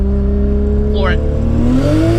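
A car with a turbocharged 2JZ-GTE engine accelerates at full throttle through the gears, its loud, close exhaust drone rising steadily in pitch. A brief chirp cuts across the sound partway through.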